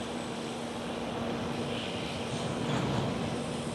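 An Etihad Cargo aircraft takes off from runway 18 Left at Schiphol, Amsterdam, its engines a steady, loud broadband roar with a low hum running through it, heard alone without voices.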